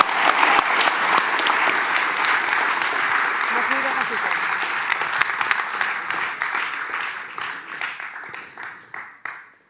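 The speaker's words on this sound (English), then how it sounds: "So a big applause for Lies Ros." An audience at a graphic design talk claps loudly and steadily, then the applause slowly thins out and fades away, with a few voices faintly heard under the clapping.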